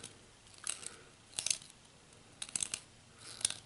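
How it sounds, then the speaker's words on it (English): Wire brads scrape and cut a channel into a wooden cigar holder as the piece is rotated, giving four short, scratchy rasping bursts spaced about a second apart over a quiet background. "you might hear those wire brads doing the cutting there"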